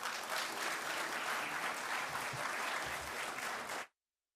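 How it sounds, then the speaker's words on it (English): Audience applause at a Caribbean Broadcasting Union media awards gala welcoming a performer to the stage, a steady dense clapping from a large crowd that cuts off abruptly near the end. "I hope you feel the same way too, by your applause, to welcome to the stage Mr. Kwaku Jelani."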